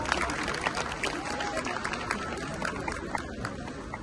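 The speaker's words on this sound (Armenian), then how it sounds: "Բարձր ծափահարություններ" An audience applauds at an outdoor jazz concert at the Cascade in Yerevan, a steady, fairly distant patter of many hands clapping with no clear voices above it.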